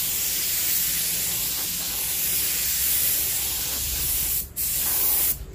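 A spray gun lays clear coat onto a small car panel with a loud, continuous close hiss that breaks off briefly twice near the end.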